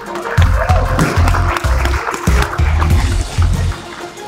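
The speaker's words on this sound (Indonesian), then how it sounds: "tepuk tangan untuk kita semua yang ada di sini" Audience applause breaks out at a professional boxing event in Jakarta, a broad clapping wash with pulsing low thumps beneath it, fairly loud and filling the space throughout.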